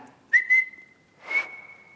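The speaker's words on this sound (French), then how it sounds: "Voyons, sais-tu siffler comme cela?" A person whistles a clear, sustained tone, starting with a couple of short breathy bursts and then holding one steady pitch, close and alone in a quiet room.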